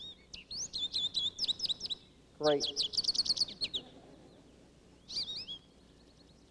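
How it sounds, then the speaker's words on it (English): A recorded bird call of the Washington state bird plays from a computer: bursts of quick high chirps and trills in rhythmic clusters, then a short pause and a final brief phrase, with one spoken word in between. "All we have to do is point at that, and we can hear the Washington state bird."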